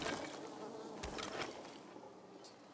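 Bees buzzing in the video game Dying Light 2, a faint insect drone with a few brief louder swells, quiet and continuous throughout.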